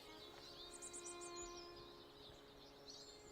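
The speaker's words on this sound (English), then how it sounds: "just listen to the bird song here" Faint forest birdsong with a quick series of four or five bright chirps, then softer scattered calls over a low, steady background hum, with no voices.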